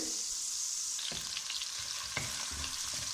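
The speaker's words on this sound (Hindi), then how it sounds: "इसके अंदर हमने ये अदरक लहसुन डाल ली है। इसको हम फ्राई करेंगे।" Steady crackling sizzle of crushed ginger and garlic frying in hot oil, with a few soft stirring scrapes underneath, no talking.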